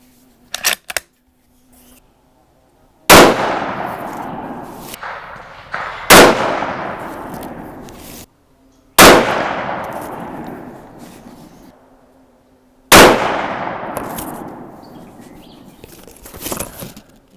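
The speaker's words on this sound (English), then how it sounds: "go ahead and shoot a group right there" .308 rifle firing 168gr Hornady BTHP loads with IMR 4064 powder, four loud, sharp cracks spaced a few seconds apart, each with a long reverberating tail across open ground, and faint handling noises between shots.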